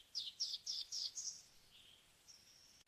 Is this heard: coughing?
no